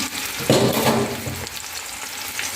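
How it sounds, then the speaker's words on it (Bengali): Onions frying in a pan for a country chicken curry, a dense hissing sizzle with a brief burst of louder clattering from stirring near the start, heard close and without talk. "পেঁয়াজ দিয়ে দিলাম"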